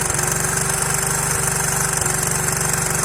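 A Honda XR 125 enduro motorcycle engine idles steadily in neutral, a close, loud single-cylinder putter with an even rapid pulse that holds constant throughout.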